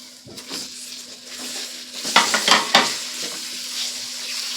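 Ginger-garlic paste and chopped tomato frying in a pan for a cumin chicken curry, with a soft steady sizzle, several close scraping stirs of a utensil against the pan, and light clinks of metal.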